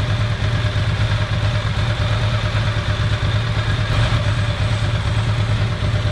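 A Ducati motorcycle engine idles steadily up close, a constant low throbbing rumble with light mechanical clatter and no talking.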